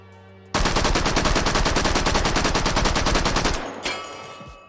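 A submachine gun fires one sustained full-auto burst in the VR shooter H3VR, with rapid even shots lasting about three seconds. The burst starts abruptly and ends with a short mechanical clack.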